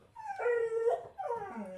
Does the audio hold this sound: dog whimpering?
yes